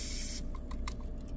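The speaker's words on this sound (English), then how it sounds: "And then from the nozzle, pull as far forward, and you're actually going to spray inside here." Lubricant sprayed inside the nozzle of a VFC M249 gas blowback airsoft gun: a close, loud aerosol hiss for under half a second, then a few quick faint clicks and rattles as the parts are handled.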